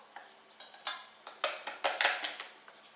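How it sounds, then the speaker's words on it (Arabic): A dessert mixture with instant coffee being stirred in a bowl, a series of close, soft scraping and tapping strokes in an irregular rhythm, with no one speaking. "غادي نحرك مزيان"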